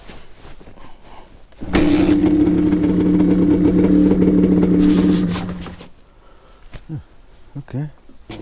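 A Suzuki TS125X two-stroke motorcycle, an original unrestored UK-spec bike, starts and runs with a loud buzzing rev for a few seconds before dying away, with voices talking around it.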